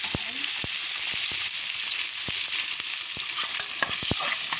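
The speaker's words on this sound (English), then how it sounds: "Onion, whatever herbs you have, put it in the pot saute." Onion, sweet pepper, bay leaf and a piece of turmeric sautéing in a pot, with a steady bright sizzle punctuated by frequent spoon taps and clicks, close and with no talk.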